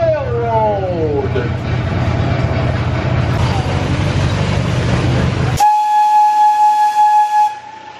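An amusement park train ride on the Tipton Creek Railroad rumbles along loudly under voices, with a whistle sweeping at the start and a sustained steam-style whistle blast near the end.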